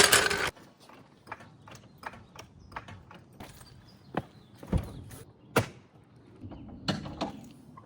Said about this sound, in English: So we're gonna jack it up now and do the thing.